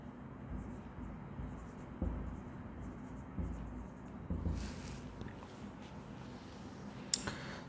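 Pen writing on paper while working an accounting problem, soft scratchy strokes close up in a quiet room, with a couple of faint taps and a sharp click near the end.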